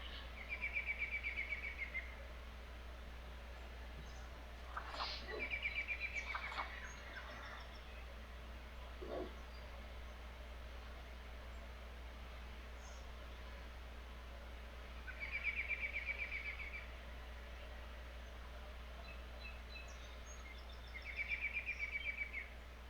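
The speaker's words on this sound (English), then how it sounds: "There's more ducks." Ducks in the fishing game Open Fishing XL give short, faint trilling calls that repeat every several seconds over a steady low hum, with a few scattered chirps between them.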